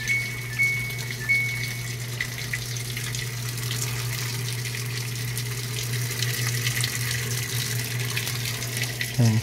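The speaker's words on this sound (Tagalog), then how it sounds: "Yan po kasi pumapasok yung tubig" Water pours steadily into a Samsung automatic washing machine drum, a continuous even rush with a low steady hum underneath, no talking.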